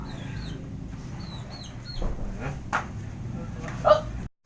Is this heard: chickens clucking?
yes